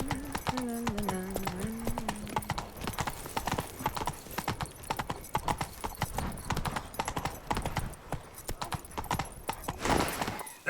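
Roach the horse galloping in The Witcher 3, a fast rhythmic run of hoofbeats over ground with a whinny near the start and a brief burst near the end, a faint voice humming underneath.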